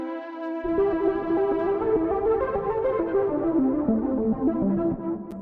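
A second analog synth lead from Analog Lab with light saturation, warm and dreamy, playing a continuous flowing melody of sustained notes over a low pad-like bed, steady and close with no voices.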